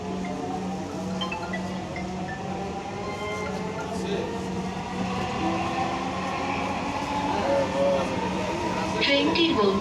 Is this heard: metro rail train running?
yes